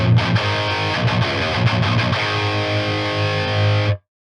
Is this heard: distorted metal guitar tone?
yes